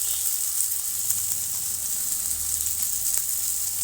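Masala for egg sambar fries in a pan with a steady, bright sizzle, a few soft stirring knocks and a low rumble beneath, and no talking.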